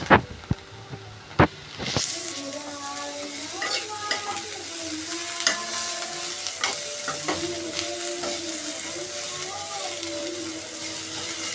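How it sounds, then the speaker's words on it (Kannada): Masala sizzling loudly in plenty of oil for an egg gravy, with a few sharp scrapes and stirs of the spoon at the start and steady frying crackle throughout, no talk. "ಸ್ವಲ್ಪ ಜಾಸ್ತಿ ಎಣ್ಣೆ ಹಾಕಿ ನಾವು ಫ್ರೈ ಮಾಡೋದ್ರಿಂದ ಈ ಹಸಿ ವಾಸನೆ ಎಲ್ಲ ಹೋಗುತ್ತೆ, ಗ್ರೇವಿ ಚೆನ್ನಾಗಾಗುತ್ತೆ"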